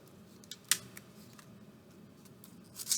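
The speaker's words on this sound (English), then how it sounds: "I'm going to cut it along this way." Scissors snipping a paper strip, a few short crisp cuts close by in a quiet room, with a louder slicing rasp at the end.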